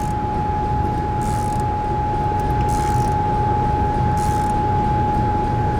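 A wrench tightening 3/8-inch bolts into half-inch anchors, heard as steady mechanical ratcheting against a constant loud droning hum, with a few brief brighter bursts of clicking.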